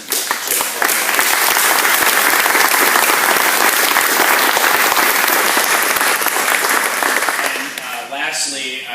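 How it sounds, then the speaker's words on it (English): Sustained, loud applause from an audience at an outdoor ribbon-cutting ceremony for the Huntington levee in Fairfax County, steady for about seven seconds before tapering off, with a voice faintly audible at the end. "everyone in this room should applaud."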